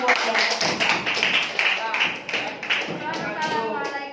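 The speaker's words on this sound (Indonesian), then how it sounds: "Berikan tepuk tangan buat kelompok." A classroom group claps for a student group, a burst of brisk overlapping hand claps with voices speaking through it.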